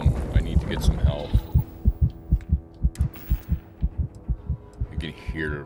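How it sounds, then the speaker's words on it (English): Steady character heartbeat from the video game Starfield, a regular thudding double pulse repeating about twice a second, prominent and close, with faint game ambience behind it. "You can hear my heart beating in the background."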